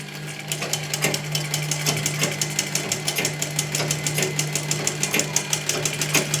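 Sewing machine stitching blouse fabric, a fast rhythmic mechanical clatter of needle strokes over a steady motor hum, close and continuous without talk.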